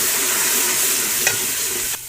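Ginger-garlic paste frying in a pan with onions and chillies for a pumpkin curry produces a loud, close, continuous sizzle, with a brief stirring scrape midway; the sizzle drops off abruptly near the end.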